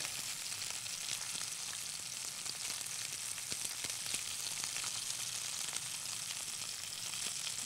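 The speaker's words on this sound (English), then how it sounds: "now let's stir up this quinoa. And just mix it, just, you know, thoroughly mix it together." Quinoa sizzles in a hot pan while it is stirred. The steady frying hiss runs unbroken, with faint scraping and clicking from the stirring, and no voices.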